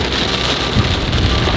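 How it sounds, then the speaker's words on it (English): Heavy rain pours steadily at night while a car climbs rough mountain roads around a volcano in Panama, a dense continuous wash with low rumbling from the vehicle underneath. "I'm driving some gnarly roads through the heavy rain right now"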